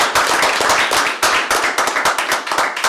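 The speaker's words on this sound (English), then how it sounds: "can we give a round of applause to all of those who have served?" A crowd applauding to honour those who have served: dense, close clapping with sharp individual hand claps, loud and sustained throughout.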